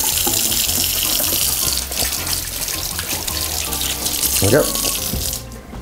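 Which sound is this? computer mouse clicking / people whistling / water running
water running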